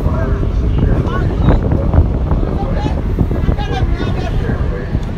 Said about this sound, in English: Good sea breeze now.